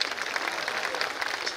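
Audience applause at a folk performance during a Pongal festival in Tiruppur, a dense steady patter of many hands clapping for a brief stretch, fairly loud and close, with no talk over it.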